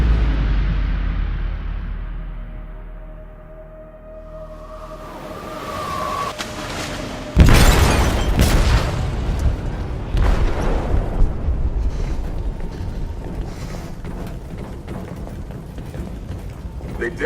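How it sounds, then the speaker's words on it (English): Explosive detonated in a ship's hold in the video game Detroit: after a low, quiet stretch, a sudden heavy blast erupts, followed by a long roaring, rumbling wash of debris and mechanical noise, with voices faintly present. "They detonated an explosive in the hold."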